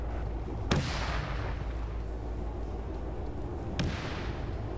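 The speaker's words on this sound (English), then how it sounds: "We see at least two different BLUFOR tanks firing on this position." Tank fire in a World War II combat game, with two sharp booming shots a few seconds apart over a steady rumbling battlefield background.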